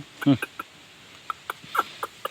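A chicken clucks close by in scattered short bursts, loudest at the start and with a burst of calls near the end.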